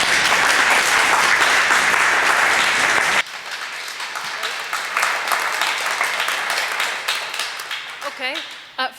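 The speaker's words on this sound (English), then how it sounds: "From the distribution of applause" A debate audience applauds loudly, then the clapping thins and softens, continuing more sparsely as some voices emerge near the end.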